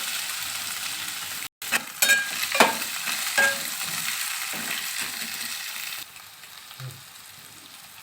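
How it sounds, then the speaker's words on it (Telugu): Carrots and tomatoes fry with curry leaves in a pan, giving a moderate, continuous sizzle broken by scattered clinks and scrapes of stirring, which ease slightly toward the end. "తర్వాత క్యారెట్, టమాటో వేసేసి బాగా వేయించాలి."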